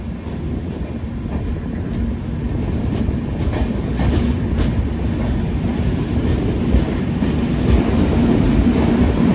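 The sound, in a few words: Mandovi Express train running on the rails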